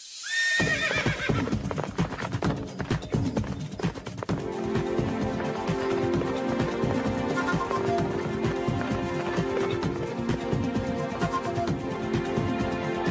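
Horses in an animated children's series gallop in a steady rhythmic clatter of hooves, with repeated high neighs and whinnies over them, loud and close.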